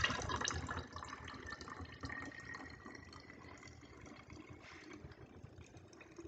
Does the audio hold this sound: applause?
no